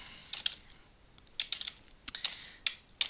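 Keys on a computer keyboard tap in sparse, uneven clusters, with a firmer keystroke like a return press, close and fairly quiet against a still background.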